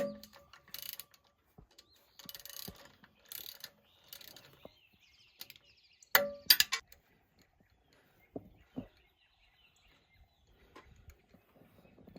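A wrench is swung around by hand on a bolt, giving sparse ratcheting clicks in short bursts with long quiet gaps between them.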